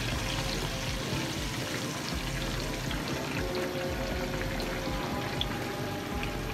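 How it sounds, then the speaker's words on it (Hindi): Marinated tikka pieces fry in a pan at an outdoor lake-view park, a dense, steady sizzle and spatter that fills the whole stretch without pause, loud and close with no talking. "अब इसको डालते फ्राई पैन में"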